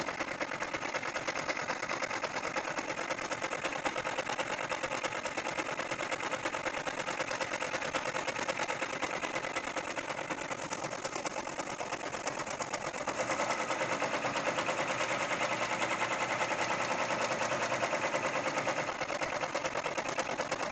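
An embroidery machine stitching an insect garden hanger hums with a rapid, even needle chatter that runs continuously and close, growing slightly louder partway through, with no talking.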